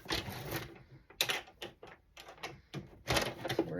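Paper folded by hand for a blue and yellow envelope journal: crisp, close crinkles and creases in irregular bursts, with a louder rustle near the start and another near the end.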